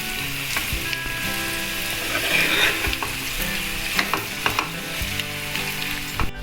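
Kerala-style spicy chicken fry sizzles loudly in a pan while being stirred, with a dense crackle of frying broken by scraping and clinking from the spoon.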